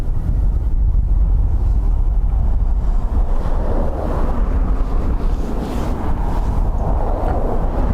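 Strong wind at Dublin Airport buffets the microphone in a continuous, loud, low roar with rumbling gusts throughout and no voices.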